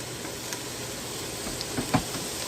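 Onions cooking in a little oil, a soft steady sizzle and hiss with a couple of brief clatters near the end, no speech.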